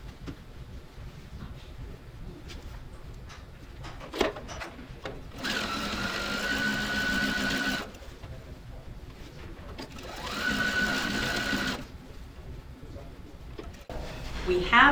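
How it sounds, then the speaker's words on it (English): A sewing machine stitching fabric pieces along their borders in two steady bursts of rapid whirring, a quiet voice talking in the pauses between runs. "what we're going to do is just sew them along the borders, just like that."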